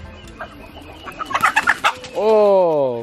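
Several close chickens cluck in quick, uneven bursts, followed by a drawn-out, loud call that rises and falls at the end.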